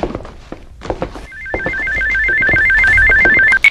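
A telephone rings loudly with a rapid, repeated electronic warble lasting a few seconds, preceded by a few soft thumps and knocks nearby.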